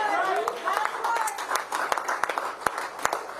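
Sparse clapping from a small audience of veterans at a JD Vance event, a handful of scattered hand claps popping out individually over ongoing background voices rather than a full ovation.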